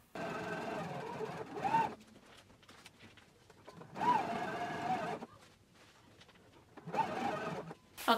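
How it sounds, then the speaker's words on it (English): A sewing machine stitching the seams of an anorak hood runs in three short bursts of motor whir separated by pauses, fairly quiet and close. "I'm gonna go ahead to the machine, stitch it at a 5/8 of an inch seam allowance"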